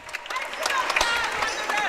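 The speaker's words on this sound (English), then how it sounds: "Oh, they're getting a round of applause." Spectators at a high school boys basketball game, Saegertown vs Cochranton, give the coaches a round of applause, a busy wash of clapping and crowd noise with commentators talking over it.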